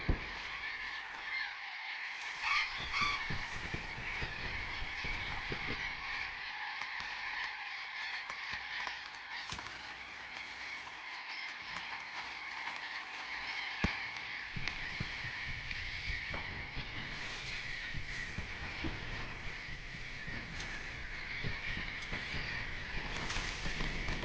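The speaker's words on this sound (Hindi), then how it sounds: "ये बरोइंग पैरट्स साथ रहते हैं और साथ साथ लड़ते भी हैं।" Burrowing parrots calling and squabbling in the wild, a dense, continuous chorus of harsh raucous screeches and squawks from many birds, steady and loud throughout.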